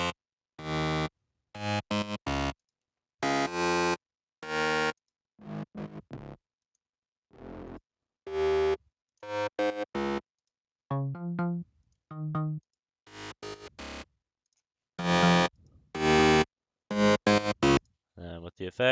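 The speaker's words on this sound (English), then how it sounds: "That is made up of 6 different sounds. This is what they each sound like without any of the effects." Six dry synthesized mid-bass sounds from an EDM track, played one after another with no effects, come as a series of buzzy, harmonically rich bursts and stabs with short gaps between them.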